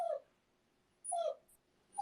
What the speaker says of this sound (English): my dogs are going to start making a lot of noise here